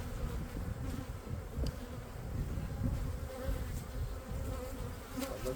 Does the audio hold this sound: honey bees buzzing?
yes